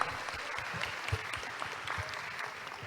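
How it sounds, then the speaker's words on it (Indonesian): An audience gives a speaker a short burst of clapping at a business conference event, a dense, even patter of many hands lasting a few seconds with no voices over it. "Boleh berikan aplaus sekali lagi untuk Kak Linda Anggrea."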